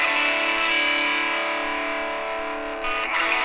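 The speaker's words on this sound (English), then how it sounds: "And this is the saturation" Electric guitar processed with saturation, sounding as a sustained, gritty distorted tone that holds steady and fairly loud, with a slight change in texture near the end; no voices.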